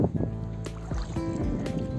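A boat moving through floodwater over village farmland, a steady low rumble with wind and water noise, up close.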